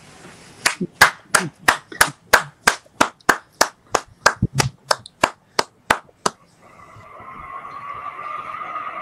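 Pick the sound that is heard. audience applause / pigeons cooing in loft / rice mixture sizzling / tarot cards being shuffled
audience applause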